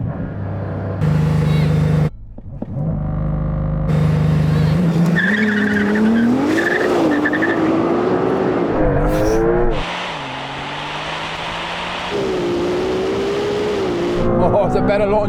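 A Porsche 911 Turbo S and a Ferrari 296 launch in a drag race, engines revving hard with rising gear-change sweeps and a tire squeal, loud and close, with voices over the roar.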